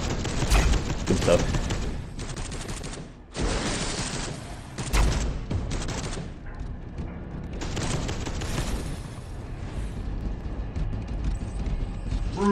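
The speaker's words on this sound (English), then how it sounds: "Shoot them. Shoot those motherfuckers." Gunfire in the video game Warhammer Space Hulk, with rapid bursts of shots in clusters and short pauses between them, loud and up close, while a player talks over the action.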